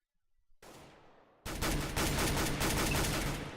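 Gunfire rings out in a Counter-Strike match, a brief burst followed by a loud, dense, continuous fusillade of rapid shots that fills the space, with no talking.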